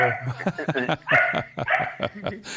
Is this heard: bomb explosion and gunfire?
no